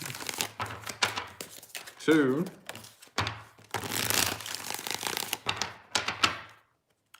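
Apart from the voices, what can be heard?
shuffling tarot cards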